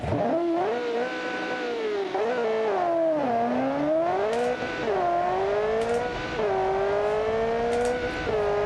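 A 1300HP car engine in the BeamNG.drive racing game revs continuously and loudly, its pitch climbing and falling through repeated throttle swings and gear changes, with brief tire squeal and no talking.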